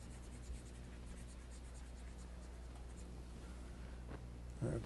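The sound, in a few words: writing on a board during a lecture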